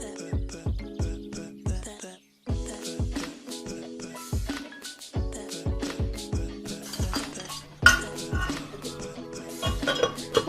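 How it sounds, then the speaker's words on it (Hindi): Chicken yakhni is ladled from a pot into a serving bowl, with repeated close metallic clinks and clanks of ladle against dishes in irregular bursts, under soft background sounds. "अब मैं इसको सर्विंग बाउल में निकालूंगी।"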